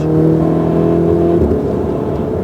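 A supercar on a race track accelerates hard, its engine note loud and close, rising in a steady whirring drone that eases slightly after the first second and a half.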